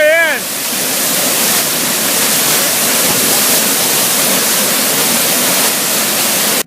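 Battlecreek Falls in Pleasant Grove, Utah, roars as a loud, steady broadband rush of falling water, close by, with a brief voice at the very start.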